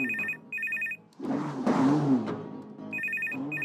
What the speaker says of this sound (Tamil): போன் ரிங் ஆகுதுல, காது கேக்கலையா?